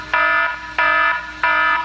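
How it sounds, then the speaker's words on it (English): A phone app's round timer alarm sounds three times, loud electronic tone bursts about two-thirds of a second apart with brief gaps between, alone and with no talk. "Your alarm will go off"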